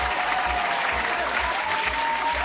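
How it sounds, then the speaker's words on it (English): Steady audience applause fills the whole stretch, a dense, even wash of many hands clapping at moderate loudness with no pauses. "Yes, I know they applaud that."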